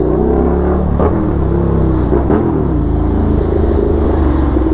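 A Suzuki SV650 motorcycle rides through heavy Manila expressway traffic, its engine drone steady and close, rising and falling with throttle changes under a constant rumble of surrounding vehicles.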